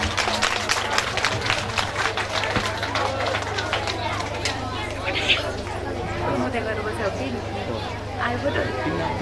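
Audience clapping at a Srimad Bhagwat Mahapuran recital event, a dense patter of applause mixed with crowd chatter and speech babble, strongest in the first half and then thinning.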